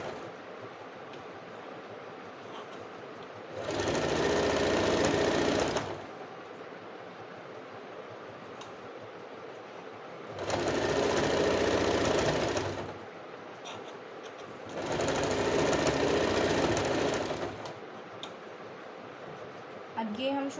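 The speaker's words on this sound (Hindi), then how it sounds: "अब यहाँ से हम वापस ले लेंगे और वापस शोल्डर की तरफ स्टिचिंग करते हुए जाएंगे।" A sewing machine stitches a kurti seam back toward the shoulder in three separate runs of a few seconds each, a close, even mechanical whir between quiet pauses.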